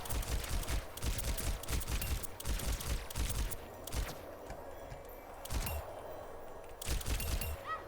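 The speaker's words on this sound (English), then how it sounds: "If you combine Guardian Angel with blaster fire, Mercy can pull off some pretty terrifying maneuvers." Mercy's caduceus blaster from Overwatch firing in rapid bursts of sharp, punchy shots, loud and close over busy game-match background noise, with short pauses between volleys.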